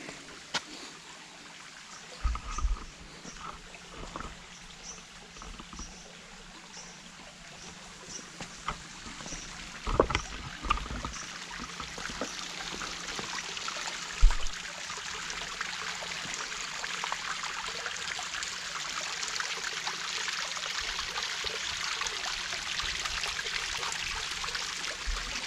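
Steady rushing of a mountain stream at a water source on a hiking trail near Vandalens Peak, a broad continuous wash of water growing slightly louder, with a few footsteps or knocks on top.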